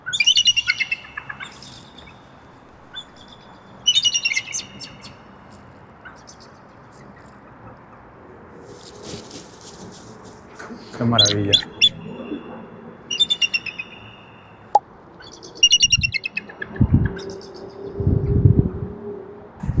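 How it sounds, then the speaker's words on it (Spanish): Sharp, high eagle calls ring out in short bursts over outdoor stadium ambience at Benfica's Estádio da Luz in Lisbon, with someone speaking briefly near the end. "Aquí tenemos las águilas del Benfica."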